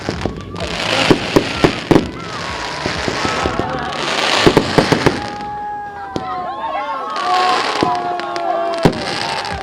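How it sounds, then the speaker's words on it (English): Fireworks burst and crackle over a speedway stadium at the end-of-season grand final, loud repeated bangs with whistling and sizzling trails, while a commentator talks over them. "there's the fireworks to signal the end of the season"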